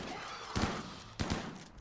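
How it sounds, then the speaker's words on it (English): Chain shotgun fire in the video game RimWorld, with three short bursts of rapid shots at roughly even gaps over a quiet hiss between them. "she ran on out there and started shooting at it."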